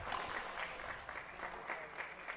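Faint, distant crowd clapping after a rally in a professional racquetball match, a soft patter of applause held steady over a couple of seconds.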